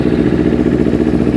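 Kawasaki Z1000 motorcycle engine idling steadily after starting, a close, even low rumble with a fast regular pulse throughout and no voices.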